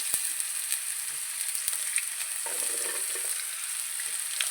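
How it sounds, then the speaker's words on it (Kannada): Chopped double beans tumble into peanuts already frying in a pan, giving a steady, close sizzle with scattered sharp crackles and stirring clicks throughout, no voices. "ನಾನೀಗ ಇದಕ್ಕೆ ಹೆಚ್ಚಿಟ್ಕೊಂಡಿರೋ ಡಬಲ್ ಬೀನ್ಸನ್ನು ಹಾಕ್ತಾಯಿದ್ದೀನಿ"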